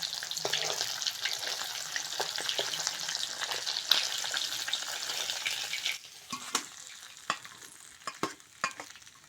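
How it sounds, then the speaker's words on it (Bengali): Khoira hilsa-type fish fries crisply in oil, a dense close sizzle with stirring clatter that thins after a few seconds into sparse spatula knocks and crackles. "মাছগুলো বন্ধুরা একটু কড়া করে ভাজতে হয়"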